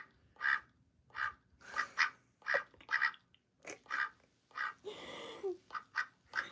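A pet duck named Olivia Gray quacks in a long run of sharp, nasal calls, about a dozen close-up bursts in uneven rhythm, with one longer raspy drawn-out call near the end and no talking.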